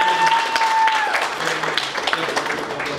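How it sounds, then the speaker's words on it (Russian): Wedding guests in a restaurant applaud, a brief burst of scattered clapping and crowd noise under a host's voice, with a sustained tone fading early on. "Аплодисментами поблагодарим всех."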